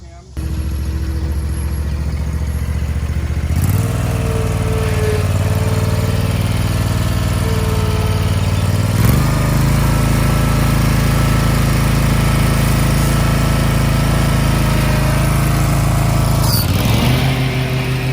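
A lawn mower engine runs close by in a loud, steady drone for the whole stretch, with brief dips in pitch as it works. Voices can be heard faintly under the noise.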